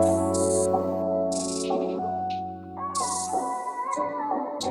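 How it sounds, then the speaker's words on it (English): Crisp hi-hat bursts loop at a steady, spaced pulse in an RnB-style FL Studio beat, sitting over sustained, warm sampled chords that ring throughout. "So simply started with this hi-hat loop"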